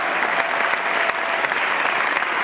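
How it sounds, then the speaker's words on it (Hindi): Dense, steady applause from an audience at an Amway celebration event in India, continuous clapping throughout with no pauses. "तालियां बजाने से डरो मत, जितनी तालियां बजेंगी उतना ज्यादा जीवन बदलेगा"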